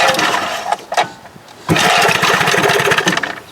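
A 1971 Johnson 20 HP outboard motor under repair gives a short, rough burst, goes briefly quiet, then settles into a loud, steady, close-up idle with a fast, even chugging pulse.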